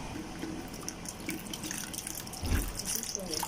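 Distilled water pours into a measuring cup in a steady, faint trickle, with soft handling noises and a brief thump near the end.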